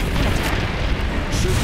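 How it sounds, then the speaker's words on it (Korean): Cannon fire booms through a dense, continuous barrage of loud, rumbling blasts in the arcade pirate gun-shooting game Deadstorm Pirates, with no gaps between them. "대포죠."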